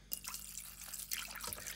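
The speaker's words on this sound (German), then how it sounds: "Wasserhahn" Water runs from a kitchen tap in a home kitchen, a faint continuous splashing stream with small drips and trickles, no talking over it.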